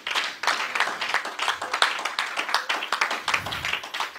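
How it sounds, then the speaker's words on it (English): Congregation in a church service claps along in a quick, fairly regular rhythm, many hands together at moderate distance, sustained without speech. "Clap for Jesus."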